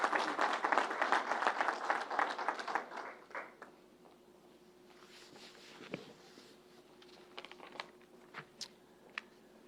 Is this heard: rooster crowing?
no